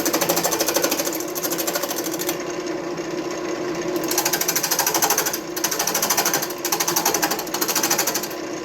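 A wood lathe reducing a piece of firewood to a set diameter for a keychain baseball bat, giving a loud, continuous buzzing chatter with brief dips as the cutting tool eases on and off the spinning wood.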